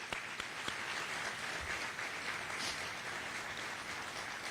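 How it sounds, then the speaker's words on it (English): At a University of Florida event, the crowd gives a round of applause for a donor's gift, a moderately quiet, steady mass of clapping with a few sharp individual claps near the start. "Can we give him a huge round of applause?"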